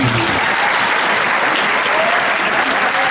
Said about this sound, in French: Est-ce que quelqu'un peut acclamer Adonai?